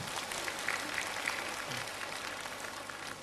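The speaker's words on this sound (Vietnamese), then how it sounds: "Cho anh một tràng pháo tay anh chị em." Applause from a large audience at a Catholic Marian congress gathering, a steady moderate clatter of clapping that fills the short moment without a break.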